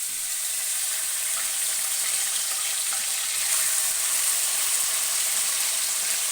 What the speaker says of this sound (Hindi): आपने इसमें ये मूलियाँ ऐड कर देनी है, ख्याल से करिएगा क्योंकि ये पानी है इसमें